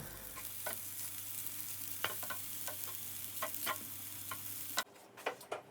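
A vegan egg mixture sizzles and crackles steadily in a hot pan, with scattered soft ticks and pops over a low hum before the frying cuts out near the end.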